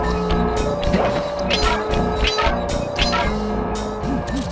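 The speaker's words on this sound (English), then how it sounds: "Just keep that engine running, Murray" A van engine idles and hums steadily in the Sly Cooper video game, overlaid with game music and tire and vehicle noise in a busy, continuous mix.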